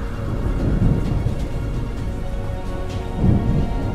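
Heavy, steady rain with deep rolling thunder swelling twice, a dense thunderstorm effect from a fantasy audio drama, with no voices over it.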